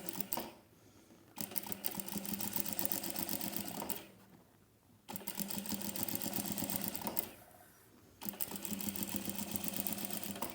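A domestic sewing machine runs in three long bursts stitching the waistband onto a skirt, a close rapid mechanical clatter with short quiet pauses between runs.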